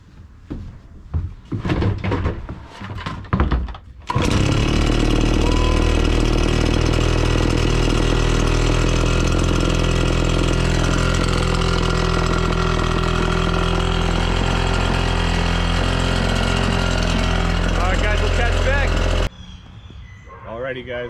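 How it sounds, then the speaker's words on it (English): A RedMax leaf blower starts cold with a few pull-cord tugs and sputters, then roars into a loud, steady, close engine drone for about fifteen seconds before cutting off, with brief talk at the start and end. "a nice cold start for our blower because he loves that Red Max noise"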